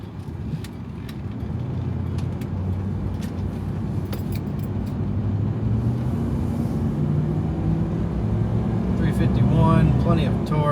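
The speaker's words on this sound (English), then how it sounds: "let's go for a drive down the road, test out cruise control" A lifted 1994 Ford Bronco XLT cruises down the road, heard from inside as a steady low engine and road rumble that swells slightly, with light jingling rattles on top.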